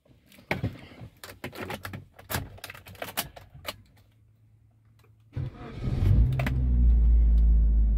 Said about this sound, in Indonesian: sekarang kita start mesinnya ya